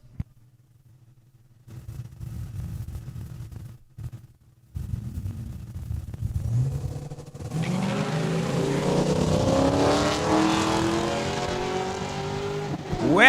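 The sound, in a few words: drag racing cars launching, Magnum and Superior Diesel Blazer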